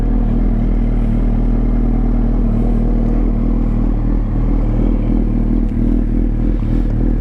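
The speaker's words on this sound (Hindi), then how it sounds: "पहले आपको मैं इधर ही थोड़ा सा रुक के इसका एग्जॉस्ट का साउंड ना चेक करवा लूँ" Superbike exhaust on a stationary bike, a loud, deep, steady engine rumble with a slight uneven pulsing throughout and no clear rise in revs, no talk.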